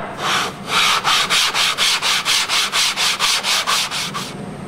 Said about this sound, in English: just push down evenly, sand it back and forth.